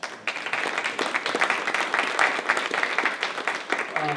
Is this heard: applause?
yes